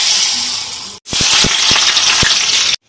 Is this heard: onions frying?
yes